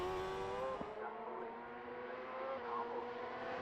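Road racing motorcycles at the Cookstown 100 race whine past at a distance, fairly faint, their engine notes sweeping and fading.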